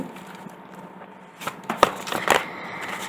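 A close rapid riffle of tarot cards, bursts of crisp flapping clicks growing denser toward the end, with no talking.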